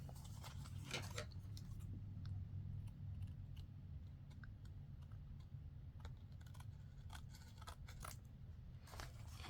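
Paper being trimmed with scissors while making an envelope pocket for a journal: soft, close, irregular snips and crisp cuts scattered through the quiet stretch, with no talking.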